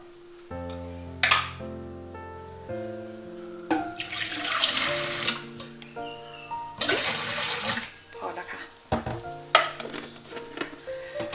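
Water runs from a kitchen tap into a basin where pumpkin pieces are set to soak in limewater. Splashes and gushes come in irregular bursts, close and fairly loud, over a soft musical background.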